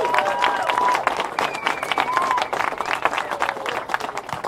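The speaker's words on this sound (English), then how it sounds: "can we have a round of applause for this amazing person?" Audience applause at a community event held by a coalition against prescription drug abuse, a continuous crowd of clapping hands with cheering and voices mixed in, fairly loud and sustained.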